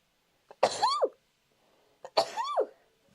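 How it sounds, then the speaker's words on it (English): Two sharp sneezes about a second and a half apart, each a quick explosive burst that trails off, close by with no talking. "I need to sneeze"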